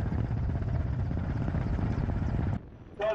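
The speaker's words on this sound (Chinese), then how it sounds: "天山北路，运输直升机一营官兵驾驶战鹰提此升空" Military transport helicopters of an army aviation battalion in Xinjiang lift off along the northern Tianshan, a loud, continuous rotor-and-engine roar with a steady throbbing pulse that cuts out abruptly near the end, followed by a brief higher tone.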